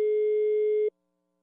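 A telephone tone on a prank call, a single steady electronic note held for just under a second and then cut off into silence.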